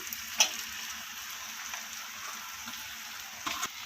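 Cooked rice goes into a hot pan with cabbage for fried rice, and a soft, steady sizzle follows with a couple of brief scraping stir sounds, close and quiet, without speech.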